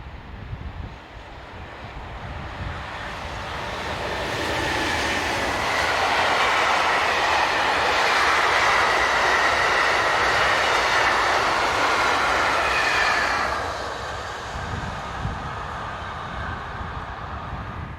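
A French freight train of bogie hoppers and tank wagons rolls past on the Mâcon to Chalon-sur-Saône main line. A loud rumble swells to a steady roar of wheels and wagons for several seconds, then drops back to a low rattle.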